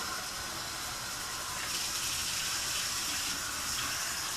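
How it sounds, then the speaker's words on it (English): Tap water runs steadily as a raw chicken is rinsed under it in a kitchen sink, a continuous close hiss and splash with no talk. "I'm just rinsing the chicken"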